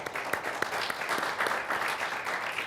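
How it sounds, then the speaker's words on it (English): An audience at a policy panel on climate change litigation applauds the panelists, a sustained, fairly full round of clapping with a few sharper, louder claps standing out. "Let's give them a round of applause."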